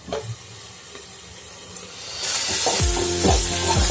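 Onions and two slit green chillies hit a hot pan for Kerala egg roast: quiet stirring taps at first, then a loud burst of bright sizzling hiss with repeated scraping stirs, close and steady.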